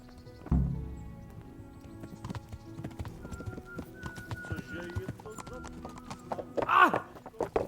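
Horse hooves clip-clop at a steady walking pace in Kingdom Come: Deliverance, with a brief whinny near the end and faint background music.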